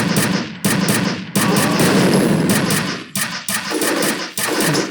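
Rapid bursts of automatic gunfire from the video game F.E.A.R., loud and close, with short pauses between volleys and a rumbling echo.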